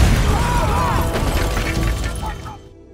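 Loud explosion from an Indonesian action film as three men approach a hideout, a dense burst of crashing, shattering debris with rumbling low end, sustained for a few seconds before cutting off abruptly.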